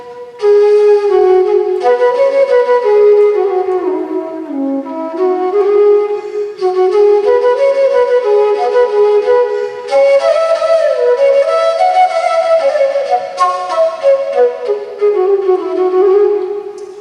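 Simple Indian classical raga melody on a bamboo flute, a single continuous breathy line gliding smoothly between notes, loud and close, played alone without talking.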